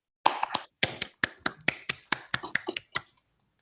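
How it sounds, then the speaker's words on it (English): Applause from a small audience at a lecture event: about a dozen sparse, crisp handclaps in a quick irregular patter, close by, then silence. "Let's have one more round of applause for everybody."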